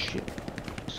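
A BAR automatic rifle fires a rapid, steady burst of closely spaced shots in the World War II shooter Hell Let Loose, loud and sustained over a busy battlefield with voices mixed in.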